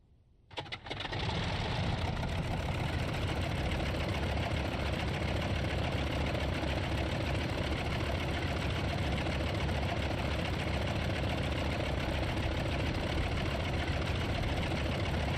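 The radial engine of a Polikarpov U-2VS biplane in a flight simulator cranks and catches after a near-silent start, then settles into a loud, steady rumbling idle that continues unbroken to the end.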